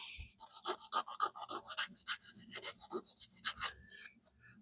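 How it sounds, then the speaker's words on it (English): A sanding stick scrubs back and forth across the freshly primed body of a 1969 Chevelle, a close, rhythmic series of raspy strokes that speed up and grow louder midway, with no talking. "Now I'll go to my sanding stick."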